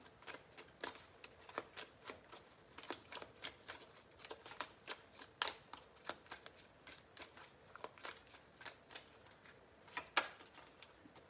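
Tarot cards being shuffled: a steady run of crisp, close card flicks and snaps at an even rhythm for about eleven seconds, fairly quiet, with no voice.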